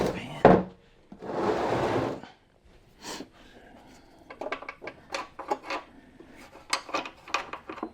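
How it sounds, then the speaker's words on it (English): A metal motorcycle oil pan is dragged and shifted across a garage floor during a Harley FXR teardown, giving a scraping rub followed by a run of sharp light knocks and clatters, close and moderately loud. "Let me move this oil pan."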